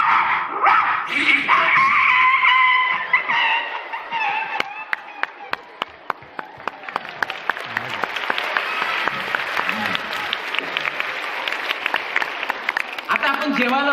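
A live sound-effects artist vocally imitates a dog barking on stage, with a run of sharp, rapid yaps and whimpers, loud and close, amid audience applause and stage noise.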